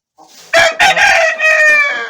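A rooster crows up close and loud, one long drawn-out call with a few short notes leading in and a sustained strained tone at the end.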